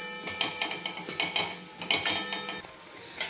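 Spices such as chilli, coriander and cumin powder being stirred in a pan, with a spoon scraping and clinking against the metal in quick irregular strokes and a faint sizzle underneath, close and without talk.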